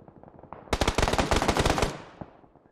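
A loud burst of rapid automatic gunfire in PUBG on the Miramar desert map, roughly a second of close shots followed by fading echoes and a few scattered distant pops.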